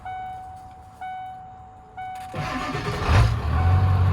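1996 Ford F-250 Powerstroke diesel, with a flickering battery light and a charging problem, starting up: three warning chimes, then the starter cranks, the engine catches and settles into a loud, close rumbling idle.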